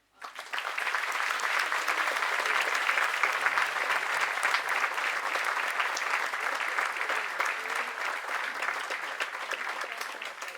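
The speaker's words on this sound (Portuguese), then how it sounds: "a doutora Hélia, para quem eu peço um grande aplauso." Audience applause fills a school anniversary ceremony at Liceu Camões, marking 110 years of the building, as a dense, steady burst of clapping that holds loud for about ten seconds and only thins slightly toward the end.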